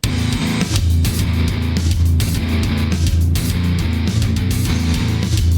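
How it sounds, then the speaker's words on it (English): A heavier, more complex heavy metal cover of a song, with bass, drums and distorted guitars playing together in a loud, dense, unbroken wall of sound punctuated by regular drum hits. "and it is all the instruments together, all just like bass, drums, and guitars"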